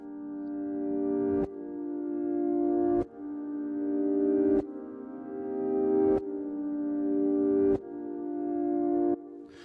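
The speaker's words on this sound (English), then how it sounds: "So we're going to go ahead and load up the reverse effect here." Reversed chord slices swell up one after another, each building in volume and cutting off sharply, forming a steady pulsing pattern of about six swells.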